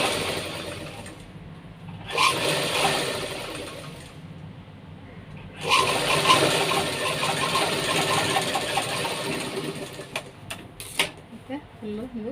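Sewing machine stitching a baby dress, two runs of rapid mechanical whirring, one short and one longer, with a steady hum between them, close by while a person talks over it.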